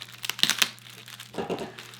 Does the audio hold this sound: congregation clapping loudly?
no